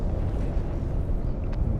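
A big shield explosion in EVE Online, a deep, loud rumbling blast that rolls on for a couple of seconds without speech.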